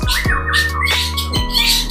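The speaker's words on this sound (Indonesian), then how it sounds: "satu contoh murai batu saya" A caged white-rumped shama (murai batu) kept indoors on an overcast day calls in clear whistled and squawking notes, close and fairly loud, over a steady low hum.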